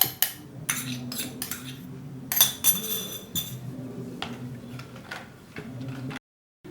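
A utensil stirring gram flour dosa batter with chili powder and salt in a bowl, a run of close, quick clinks and taps against the rim in uneven bursts, with no talk.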